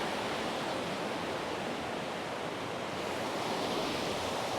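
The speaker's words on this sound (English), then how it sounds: "you can probably tell by how fast that river's flowing" A fast-flowing river in remote Knoydart, Scotland, swollen after days of rain, gives off a steady, dense rushing roar that fills the whole clip without pause, close by and loud, with no voices.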